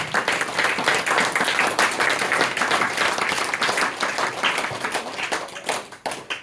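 A crowd applauds steadily, dense overlapping claps that hold strong and then thin out toward the end.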